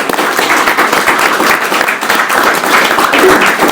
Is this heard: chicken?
no